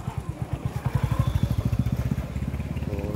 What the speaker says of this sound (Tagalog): Ayan, may motor.